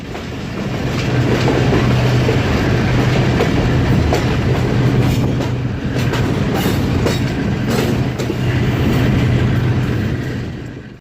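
Express trains passing each other on a Pakistani railway line: a loud, steady roar of rolling carriages with rhythmic wheel clatter and a faint squeal, lasting throughout without pause.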